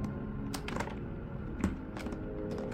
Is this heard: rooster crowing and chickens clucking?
no